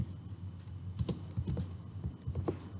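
Steady computer keyboard typing while R code is being written, a run of light irregular keystrokes with a few louder taps, close and clear with no talk.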